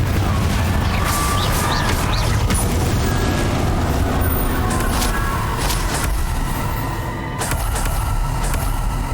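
Repeated Confringo blasting spells explode during combat in Hogwarts Legacy, a dense, loud wash of booms and crackling bursts with sharp transient hits over a constant low rumble, continuous throughout.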